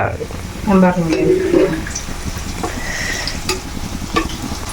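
Parippu vada, lentil fritters, frying in oil in a pan, with a steady sizzle and a few stirring scrapes and clinks early on. No one speaks.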